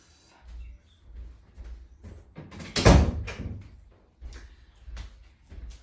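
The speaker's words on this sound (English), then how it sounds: "the door just opened" A door opens with a series of soft thuds and rattles, then a single louder knock or bump near the middle of the sequence, all close by and with no talking.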